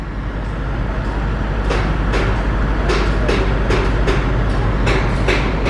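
A train rumbles slowly through Padalarang station, a steady low roar with rhythmic clacks of wheels over rail joints, fairly loud and close.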